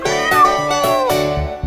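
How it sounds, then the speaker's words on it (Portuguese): A cartoon kitten in a Portuguese nursery rhyme song meows in several drawn-out, tuneful cries over a light musical backing, close and clear. "Olha, lá está o nosso gatinho."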